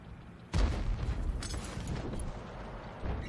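Artillery from a 105 leFH18B2 howitzer in a video game, a heavy boom bursting in sharply and trailing into a long rumbling roar with a second swell near the end, loud and alone.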